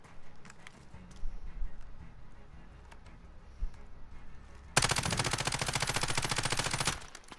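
Rapid automatic fire from a Ram 7 assault rifle in Call of Duty: Modern Warfare erupts in a sustained burst of a couple of seconds after quieter shuffling and clatter, loud and close.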